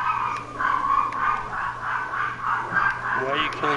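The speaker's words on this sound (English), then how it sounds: "Oh my god, they're barking." Dogs bark repeatedly in a video game, with Sith Lord combat going on, the yaps close and moderately loud under someone talking over them throughout.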